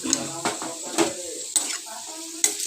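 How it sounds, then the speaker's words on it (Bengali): Cooked papaya for chutney is stirred in a pan after the lid comes off. A spoon clinks and scrapes against the metal in a handful of close, distinct strokes over a low sizzle. "পাঁচ সাত মিনিট পর ঢাকনা খুলে নিয়ে আবার একটু নেড়ে চেড়ে নিলাম"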